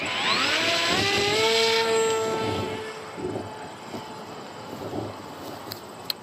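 A small RC model plane on a HobbyKing KK2.0 flight controller with auto-leveling and stabilization on takes off, its high electric motor whine rising and sweeping upward, then fading as it climbs away.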